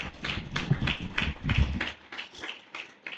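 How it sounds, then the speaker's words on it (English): Audience applause for a professor at a conference panel on AI in the financial sector, a modest round of clapping with uneven, pulsing bursts that thins toward the end. "Another round of applause for Prof."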